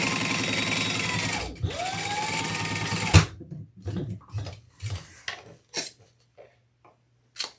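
A sewing machine stitches down the sides of a leather Karla bag in one rapid, steady run of about three seconds. It gives way to scattered clinks and handling knocks.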